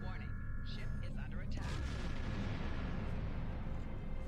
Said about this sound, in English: Oh, right, fire a warning shot.